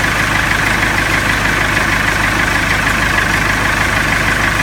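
A Salsco wood chipper engine runs steadily at idle, a loud, constant mechanical drone with no variation and no voices.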